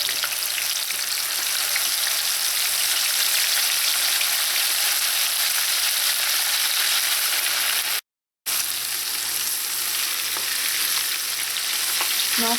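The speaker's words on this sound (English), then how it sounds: "Now fish doesn't take very long to fry, and I have my heat on medium-low." Pieces of floured shark fish fry in hot oil over medium-low heat, a dense, continuous sizzle and crackle that holds steady and close with no talking, broken only by a momentary dropout.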